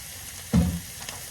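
Ground meat returned to a skillet hits the hot pan with a short, close burst of sizzling that quickly fades to a faint simmer.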